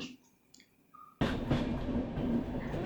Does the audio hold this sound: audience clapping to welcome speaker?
no